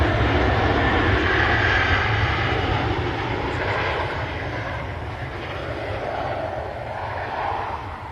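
An Emirates airliner flies overhead near Manchester Airport, its jet engines producing a loud, steady broadband roar that fades slightly toward the end.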